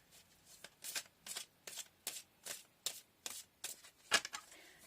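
Tarot cards are shuffled by hand in a steady run of about ten crisp, riffling bursts, close and fairly soft, with no talking.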